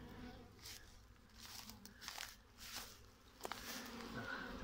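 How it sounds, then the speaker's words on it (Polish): Bees returning to a hive with the first spring pollen, buzzing softly in a steady close hum with small passing swells and faint rustling, no talking heard. "Fajne te pszczółki też są."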